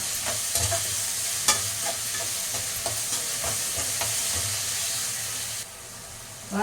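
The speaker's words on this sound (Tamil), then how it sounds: "தக்காளி வதங்க ஒரு கொஞ்சம் உப்பு போட்டுக்கலாம், அப்போ தான் வந்து நல்லா வதங்கும்." Tomatoes and onions sauté in a pan for a chicken kuzhambu, a steady sizzle and hiss with repeated scraping stirs of a spoon throughout, close and fairly loud, with no talking.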